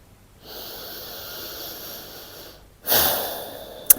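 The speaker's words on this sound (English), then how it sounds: "Last breath in and out." A slow, deep breath during a beginner yoga session: a long, airy inhale held steady for a couple of seconds, then a sharper, louder exhale, closing with a brief click.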